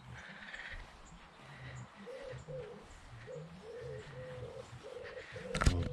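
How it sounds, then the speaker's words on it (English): A wood pigeon coos repeatedly in a soft rhythmic phrase at a campsite in the Derbyshire countryside, moderately distant, over quiet outdoor ambience with a brief clatter at the end. "That wood pigeon's going to annoy me."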